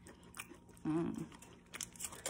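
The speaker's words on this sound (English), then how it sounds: "Can you get a lettuce crunch?" A single crisp, crunchy bite into the lettuce of a burrito close to the mic, lasting about half a second, over a steady low background hum.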